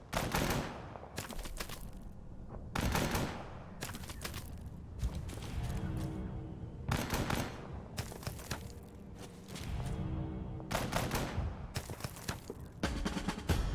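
Mortar and small-arms fire in the WWII tactical game Total Tank Generals, repeated bursts of dense crackling shots in clusters across the stretch, steady and moderately loud with no talking.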